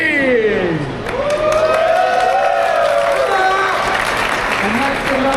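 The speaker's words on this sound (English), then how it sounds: "let's have one final cheer for each" A large crowd at an esports LAN tournament for Omega Strikers cheers and applauds continuously, loud and sustained, with whoops rising over steady clapping; an announcer's voice sounds over the crowd.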